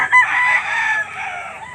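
Chickens at the Lipa livestock auction market, with a rooster crowing loudly and close up over steady clucking and busy market background noise.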